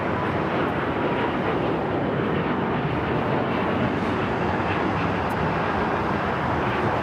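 A United airliner takes off from runway 25 right at LAX, its engines a steady, loud, broadband roar that fills the whole stretch without a break.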